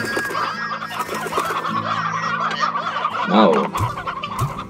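Hens in the Slime Rancher video game clucking and squawking loudly in a dense, overlapping flock chatter, with a brief single spoken word near the end.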